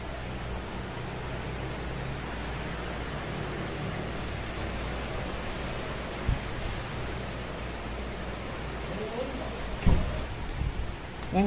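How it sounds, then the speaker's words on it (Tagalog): Heavy rain driven by strong wind, a dense, steady roar of water falling on surfaces close by, with a few louder bumps and knocks near the end. "Ang lakas ng ulan."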